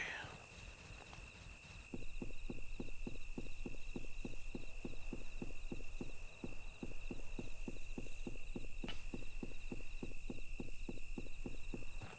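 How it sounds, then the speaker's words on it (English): Rapid pitter-patter of pistol fire in the 1999 game Hidden & Dangerous, a long steady train of quick, evenly spaced taps running on after a short pause, over a constant hum and high whine. "I love that little pitter-patter sound effect"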